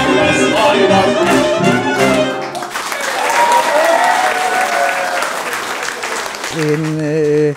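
Enthusiastic concert audience applause after a Hungarian folk-song premiere evening, loud and sustained for several seconds, preceded and followed by singing or voices mixed in over the clapping.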